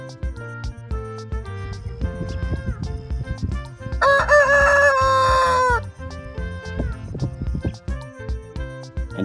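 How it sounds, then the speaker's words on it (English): A small, muddy farm rooster crows once in a long, loud cock-a-doodle-doo over bright background music, standing out clearly for about two seconds in the middle. "In the next one, we have a rooster."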